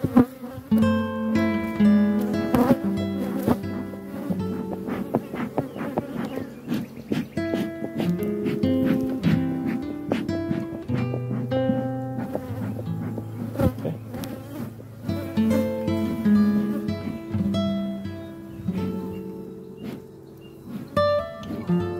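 Honeybees buzzing steadily around an open hive during an inspection, a dense, continuous drone of many insects close by, with no talking.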